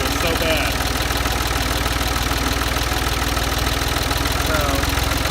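A Ford 2000 diesel tractor engine idling steadily, its low rhythmic chugging and knock continuous and loud throughout, close by.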